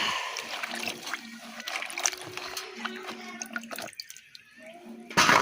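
Water splashes and pours into a vessel for washing vegetables such as eggplant and potato, with intermittent sloshing, a brief quiet gap and a louder splash at the end.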